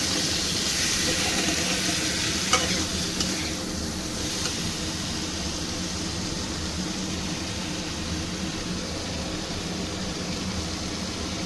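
Spice paste sautés in a pan with a little water added for a ridge gourd, potato and prawn curry, giving a soft, steady close sizzle and hiss with faint stirring and no speech.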